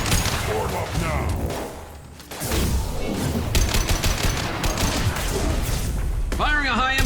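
Bursts of rapid gunfire and fusillades rattle through a Mass Effect 2 firefight, loud and continuous with sharp shots and a brief lull, while voices shout over the shooting.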